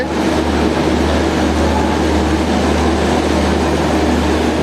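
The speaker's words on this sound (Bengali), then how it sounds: "আরও একটা ট্রেন ঢুকছে" The Puri–Shalimar train pulling into Kharagpur station, heard from the platform as a loud, steady, close rumble that lasts the whole stretch with no talk.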